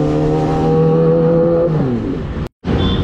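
A Yamaha MT-15 motorcycle engine revs hard nearby, a loud steady high-pitched drone whose pitch falls away, followed by a brief cutout and a return of engine sound.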